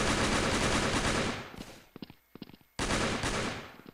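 Fully automatic bursts from a CZ pistol in a video game, with a long roaring volley, a few short separate shots, then another sustained burst, all loud and close.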